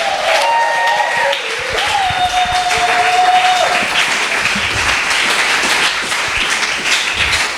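Congregation applauding during a church service: sustained dense clapping from a large group, with a few sustained tones held over it, continuing steadily for the full stretch.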